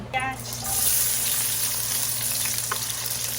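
Garlic sizzles in a hot pan for a tuna Bicol express, a steady close frying crackle with brief stirring scrapes near the start.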